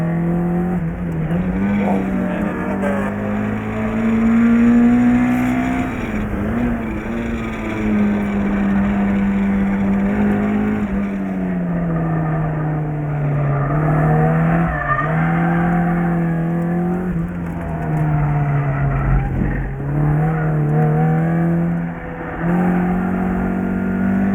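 Engine of a K-swapped Mazda Miata race car held on the rev limiter at Toronto Motorsports Park, a loud, steady, buzzing drone that wavers and stutters slightly as it bounces off the limiter, running continuously with no talk.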